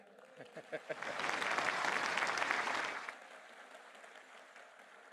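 An audience bursts into clapping that swells for a couple of seconds and then fades out, with a few scattered claps at the start.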